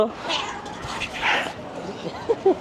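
A cat at a seaside beach in Jeddah gives a few short, close meows near the end, mixed with a low human voice and outdoor background noise.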